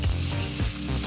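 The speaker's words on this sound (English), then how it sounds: "Now we start to stir fry." Kimchi fried rice with Spam sizzles and is stirred in a hot pan, a dense continuous frying hiss with a few soft scraping stir movements, close up and without talk.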